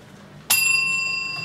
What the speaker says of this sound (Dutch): Ik wacht op de bel.